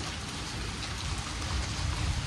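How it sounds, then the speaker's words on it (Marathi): Steady rain pours down in Baramati, a dense continuous hiss of drops striking surfaces, with no voices. "तर बघा इकडे पाऊस यायला लागलाय बारामतीला."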